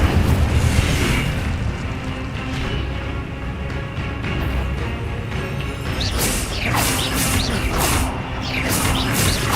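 Incendio fire spell cast repeatedly in Hogwarts Legacy, a dense, loud wash of booming fire blasts and crashing effects, with sharp bursts near the end.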